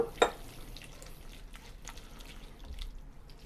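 Soft, thick squelching of a spoon stirring a creamy Alfredo sauce with pasta water in a pan, quiet and close, following a brief clink at the start.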